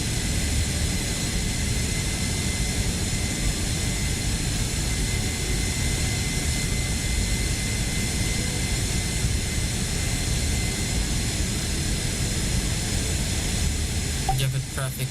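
A steady, loud aircraft engine roar from a flight simulator, a constant broadband whine and rumble spooling through the whole stretch with no clear break, ending with a brief click.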